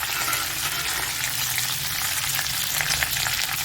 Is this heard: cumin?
yes